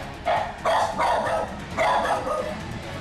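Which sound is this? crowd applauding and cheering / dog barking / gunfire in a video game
dog barking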